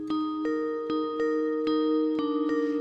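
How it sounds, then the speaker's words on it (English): A synthesizer patch plays a bell-like tone that resembles a Skype ringtone, with bright chiming notes struck in a regular rhythm over a sustained ringing drone. "it's a Skype ringtone."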